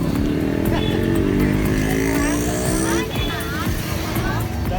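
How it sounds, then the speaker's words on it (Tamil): A three-wheeled auto rickshaw drives past on a Jaffna street, its buzzing small engine rising and then falling away, with a crowd chattering and calling out over it. "ஒரு பெரிய ஆட்டோ ஒன்று போகுது"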